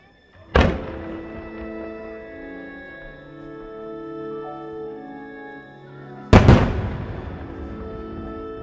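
Two sharp, loud fireworks bursts at the Motegi fireworks festival, several seconds apart, each a booming crack followed by a sustained crackling, sizzling tail that fades slowly.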